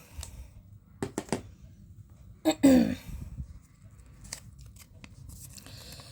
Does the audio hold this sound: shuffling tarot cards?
yes